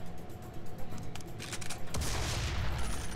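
Rapid gunfire from weapons in the Serious Sam 3: BFE video game, a dense burst of shots with a heavier blast near the end, loud and close with no talking.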